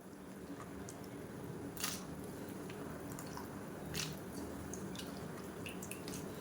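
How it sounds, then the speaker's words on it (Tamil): Raw plantain pieces drop into hot water in a pan, giving soft wet plops and splashes over a low steady simmer, with a few sharper splashy bursts. "இப்போ அதை வந்து எடுத்து இந்த சுடு தண்ணியில் சேர்த்துக்கலாம்."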